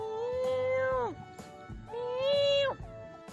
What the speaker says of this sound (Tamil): மியா மியாவுன்னு கத்துது